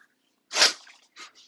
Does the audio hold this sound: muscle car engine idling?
no